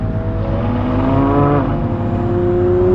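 A Ferrari LaFerrari supercar passes close by, its engine rising in a loud whirring rev that climbs in pitch over three seconds.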